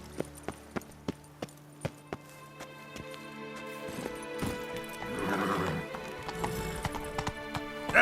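Horse hooves clip-clop in The Witcher 3: Wild Hunt, Blood and Wine, a steady walking rhythm of distinct close hoofbeats, then a neigh or snort in the middle before the hoofbeats resume.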